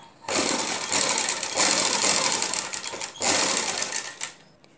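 An electric sewing machine stitching a back neckline seam on a garment, a fast close mechanical whir running in two long bursts separated by a brief pause, with no talk.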